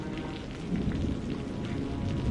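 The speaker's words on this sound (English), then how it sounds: "just endless rain, the kind that never stops" Steady, endless rain falling in a continuous dense patter, loud and close with a deep rumbling undertone, swelling slightly partway through and carrying on without a break.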